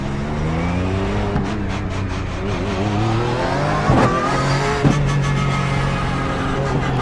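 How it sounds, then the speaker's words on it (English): A Porsche 911 GT3 Cup race car screams around the Nurburgring in iRacing, heard from inside the car in VR. The engine holds a loud, steady high-revving howl, broken by two sharp gear shifts. "The engine sounds very cool."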